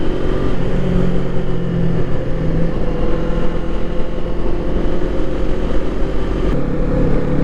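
A Kawasaki Eliminator motorcycle engine runs steadily while being ridden, a continuous loud droning hum with low rumble and wind-like noise throughout, no talking.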